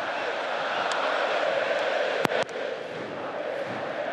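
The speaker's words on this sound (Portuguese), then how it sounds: "o canto da torcida rubro-negra está encobrindo qualquer diálogo que possa ocorrer aí" Flamengo supporters chanting in a packed football stadium, a dense, steady roar of massed voices continuing throughout with a few brief sharp knocks partway through.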